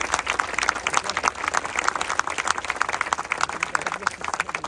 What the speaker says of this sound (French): vous pouvez les applaudir parce qu'ils le méritent